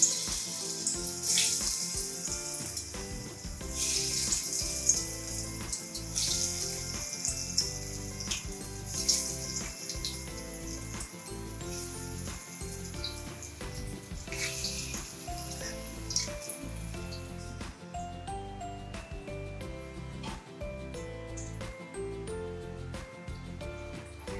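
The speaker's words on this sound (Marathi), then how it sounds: "तर आता आपण वड्या तळून घेऊया।" Alu vadi, Maharashtrian patra slices, fry in hot oil with a steady crackling sizzle, close and moderately quiet, running continuously without talk.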